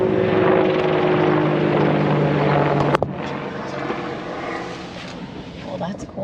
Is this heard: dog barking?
no